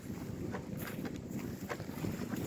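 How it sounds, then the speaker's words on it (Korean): Steady wind blowing at a seashore at high tide, a continuous broadband rush with gusty swells and soft rustling, no voices. "지금 이제 바람이 좀 불고 그런데 만조거든요."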